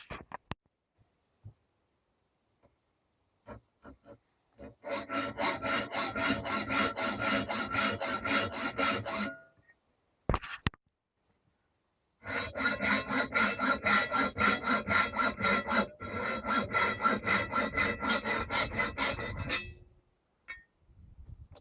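A hacksaw cuts through a metal mounting bracket clamped in a vise, with steady rhythmic back-and-forth strokes in two long bursts separated by a short pause, close and fairly loud.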